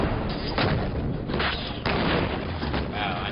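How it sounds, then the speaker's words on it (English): An ANFO explosive charge detonates in an outdoor shockwave-surfing experiment fired alongside a cannon, producing heavy, booming thuds that roll on in a loud, continuous rumble. "The cannon triggered. The ANFO went off"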